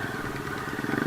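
Off-road motorcycles near a lake on an adventure trail rumble steadily close by, a brief burst of engine noise with a rising rev at the end and no speech.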